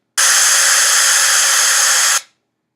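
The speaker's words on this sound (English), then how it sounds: "Let's do some white noise." Synthesized white noise from an audio sampler plays as a single loud, flat hiss lasting about two seconds, starting abruptly and cutting off cleanly into silence.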